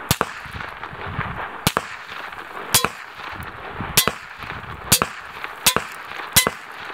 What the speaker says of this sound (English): I could actually hear that I was hitting the helmet on 100 meters distance.